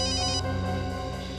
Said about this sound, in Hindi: रेडियो स्टेशन से फोन है सर?